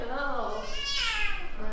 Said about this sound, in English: This is our little foster kitten